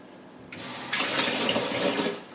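Water streams from a newly installed Delta Ashton Touch2o kitchen faucet, starting abruptly and then swelling into a steady, close, moderately loud rush that continues for a couple of seconds.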